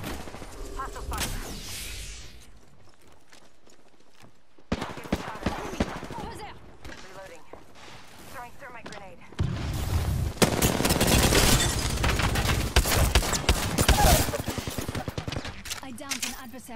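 Gunfire in the battle royale game Apex Legends, bursts of rapid automatic shots and scattered single cracks over several seconds, growing louder and denser toward the end, mixed with game sounds.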